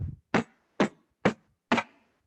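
A beatboxer imitates a snare drum with his mouth, giving four sharp, crisp vocal snare hits in an even rhythm after a brief low breathy onset, close and clear with silence between each hit.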